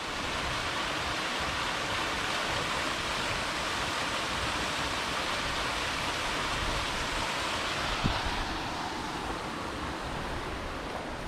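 A small waterfall about 1.5 to 2 metres high tumbles beside a rock pool on a bush walking track, giving a steady, close rush of broadband water noise that holds evenly throughout.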